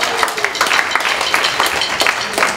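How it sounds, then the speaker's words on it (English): Audience applause at the end of a jazz trio concert, a dense wash of clapping hands from a crowd, moderately loud and continuous, with someone speaking over it. "Give yourself a great big round of applause."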